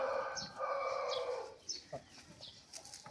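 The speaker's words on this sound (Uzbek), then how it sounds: "Juda garach xo'roz bu." A Vietnamese rooster of the Vietnam breed crows once, loud and close, for about a second and a half. Short chirps and faint clucks follow amid quiet yard background.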